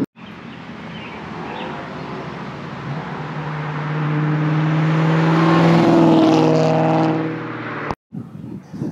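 Supercharged 630 rwhp VMP 2003 Ford Mustang Terminator Cobra convertible on a test drive, its engine drone climbing steadily in pitch and loudness as it accelerates, then cutting off abruptly near the end.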